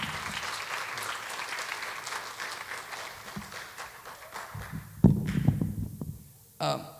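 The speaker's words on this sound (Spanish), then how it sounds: "Dale un aplauso al Señor." A church congregation applauding during a Spanish-language sermon, with steady broadband clapping over a low rumble for about five seconds, then louder close thumps and voices near the end.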